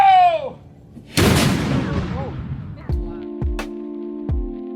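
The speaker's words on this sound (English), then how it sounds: "several times a day, a cannon is fired." A historic cannon fires at the Fountain of Youth park in St. Augustine, Florida, with one loud, close boom and a long rumbling decay, followed by ringing tonal strikes.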